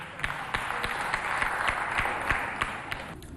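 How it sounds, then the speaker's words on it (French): An audience at a school event for children claps together in a dense, steady burst of applause lasting a few seconds, moderately loud and indoors, with individual claps standing out before it fades. "Merci, applaudissez pour elle."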